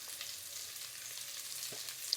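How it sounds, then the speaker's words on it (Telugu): Onions frying in a pan for jeera rice, a steady close hiss of sizzling oil with faint stirring clicks, no voices. "ఇప్పుడు మనం ఉల్లిపాయలు యాడ్ చేసుకుందాం."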